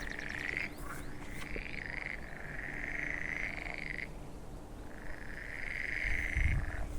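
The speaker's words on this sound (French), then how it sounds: "on entend des grenouilles" A chorus of frogs croaks in a marshy fen in Belgium's Fagne des Tailles, a steady, buzzing trill rising and falling in long stretches, heard at a moderate distance with brief pauses between bouts.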